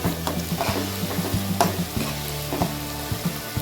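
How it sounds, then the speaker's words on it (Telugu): Sliced onions and ginger paste sizzle in hot oil while a spoon scrapes and knocks against the pot in quick, uneven strokes, close up, with no talk. "అల్లం పేస్ట్ వేసుకొని ఇలా కలుపుకోవాలి."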